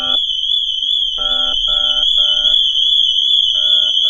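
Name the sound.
car alarm going off on a rebuilt McLaren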